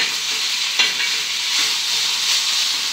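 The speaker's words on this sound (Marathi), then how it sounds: "तर आता ही ह्या तेलामध्ये अशी थोडा वेळ फ्राय होऊ देऊ आपण." Fenugreek leaves fry in oil on a hot griddle with a steady, close, loud sizzle, broken by a few brief sharper crackles as they are stirred.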